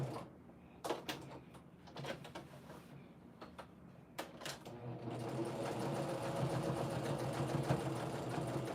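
A sewing machine quilting through batting on a pillow cover: a few scattered clicks and taps at first, then a steady, fast, moderately quiet stitching hum that runs continuously to the end.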